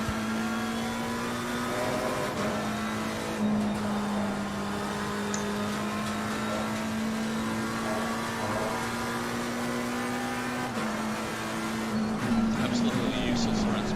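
Race car engine in Assetto Corsa Competizione, a steady droning tone that holds pitch with slight rises and dips, running continuously under people talking.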